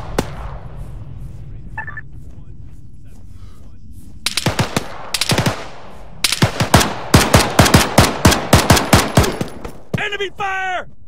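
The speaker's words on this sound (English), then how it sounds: "Enemy fire!" Rapid bursts of enemy rifle and machine-gun fire in the military shooter Arma 3, loud and close, crackling in clustered volleys that grow denser toward the end, with a brief shouted voice.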